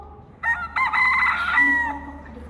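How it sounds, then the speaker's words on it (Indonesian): A rooster crows once, a loud, close cock-a-doodle-doo lasting about two seconds and rising and falling in pitch, with no talking over it. "maka ayam berkokok"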